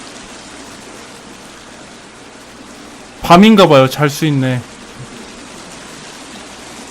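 Steady, even rush of flowing water in the survival video game The Forest runs through the whole stretch, with a short burst of someone talking over it midway.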